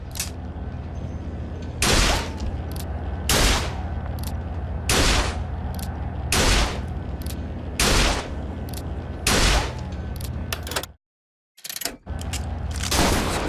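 Video game gunfire from BioShock Infinite: Burial at Sea, a run of loud, evenly spaced single shots about every second and a half over a steady ambient bed, with a short silent gap near the end.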